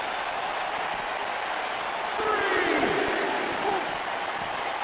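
Wrestling arena crowd in the WWE 2K19 video game, a steady broad roar of cheering and applause that swells briefly in the middle, with no talk over it.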